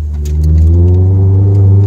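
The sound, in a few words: Lotus Elise S2 engine revving, accelerating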